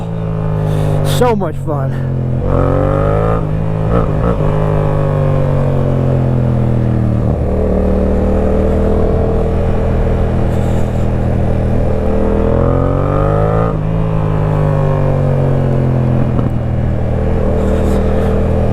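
A motorcycle on a rainy ride drops a gear and accelerates. Its engine drones loud and close, and the pitch sweeps up and down several times through the run, while a rider briefly speaks over it.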